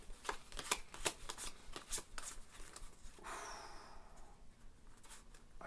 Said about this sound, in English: in the 2-player version, you actually draw the top 5 cards of the deck